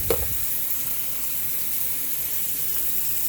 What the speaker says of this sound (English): This is like the equivalent of cooking Steakums.